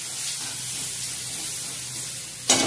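Spinach greens dropped into a pan of frying spice mix for a Maharashtrian palak gargati bhaji, giving a steady broad sizzle that flares into a louder, sharper hiss near the end.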